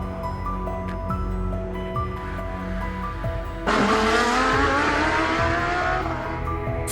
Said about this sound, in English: This V8 hybrid, 670 horsepower Japanese tech, but the turbo roar,